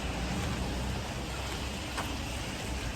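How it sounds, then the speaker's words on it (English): Heavy rain pours down outdoors in a dense, steady hiss that fills the whole scene without a break. One faint brief tap stands out near the middle. "in the pissing rain"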